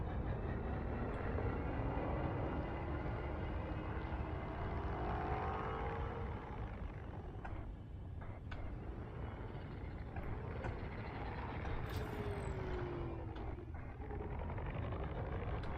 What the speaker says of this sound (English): I'm not sure why the dish is always the loudest part of these ships.